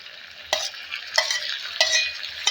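Chopped tomatoes are added to garlic frying in a pan, giving steady close sizzling with several sharp bursts as pieces drop in and get stirred, no voices.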